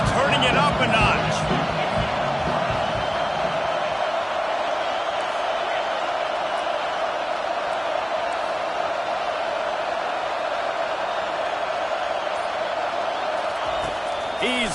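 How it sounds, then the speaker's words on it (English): Stadium crowd at an NCAA football game building into a steady, loud roar before a second-down play, broad and continuous throughout, with a brief burst of clapping and cheers at the start. "this crowd is turning it up a notch"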